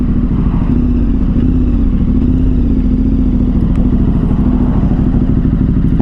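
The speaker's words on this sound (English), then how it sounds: "It has a big V engine" KTM 1290 Super Adventure R motorcycle with a big V engine idling and running steadily, a loud, close, continuous rumble with slight wavering pitch.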